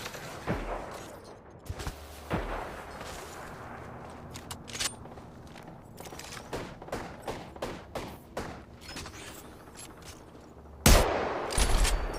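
Repeated gunfire from a firefight in the video game Apex Legends: scattered single shots and short bursts at an uneven rhythm, some loud and close, others fainter, with a sharp loud burst near the end.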